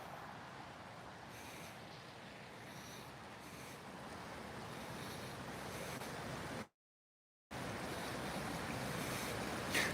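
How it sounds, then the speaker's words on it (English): Floodwater rushes around a museum building in Warm Springs, a steady, faint broadband wash with no talking, briefly cutting out before resuming. "There's water flowing all around it"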